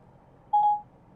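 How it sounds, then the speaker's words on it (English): A single short electronic beep sounds from the Ford Sync 3 infotainment system in a 2017 Ford as a phone call starts, a clean steady tone standing alone over faint cabin hum. "If you want to make a phone call, call Barry."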